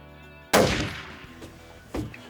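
A single loud rifle shot cracks out during a South Texas deer hunt, sharp onset followed by a long rolling echo, with a second fainter boom or echo arriving about a second and a half later.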